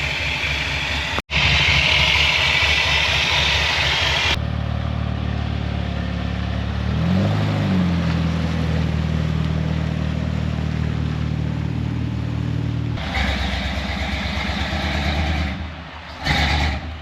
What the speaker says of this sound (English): It's just a Goodwrench 350. It ain't no power plant, but it sounds cool as hell.